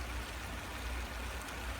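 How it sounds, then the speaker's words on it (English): Water from an improvised hose setup sprinkles onto a backyard compost pile, a faint, steady hiss and patter of spray with no talking. "just sprinkling the water"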